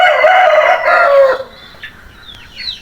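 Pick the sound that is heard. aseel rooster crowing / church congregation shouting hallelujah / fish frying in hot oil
aseel rooster crowing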